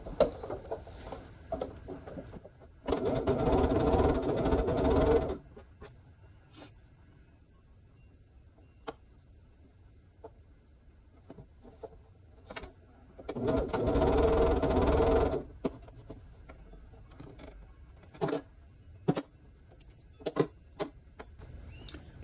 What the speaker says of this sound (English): I'll just stitch them all on there real quick.